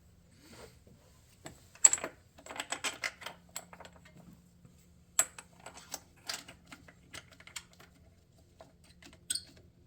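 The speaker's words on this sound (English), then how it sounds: "So I'm going to clean it up with a wire brush first." A wire brush scrubs a filthy intake manifold part in short, irregular bursts of scratchy strokes, fairly faint and close, with quiet gaps between.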